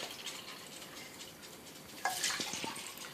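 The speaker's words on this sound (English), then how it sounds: "we're going to take tap water and we're going to fill these two things here real quick" Tap water runs into two containers from a jug, a soft steady trickle that swells into a louder gush of filling water about two-thirds through, with no voices over it.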